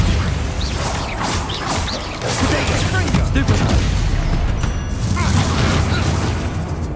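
Bombarda explosion spells boom and crash in rapid bursts during a spider fight in the Hogwarts Legacy video game. A voice shouts incantations over the dense, continuous blasts and impacts.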